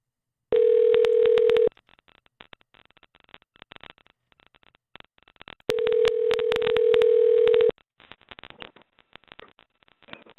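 A telephone dial tone after a dropped call, two long steady tones separated by a gap with faint clicks between, loud and alone.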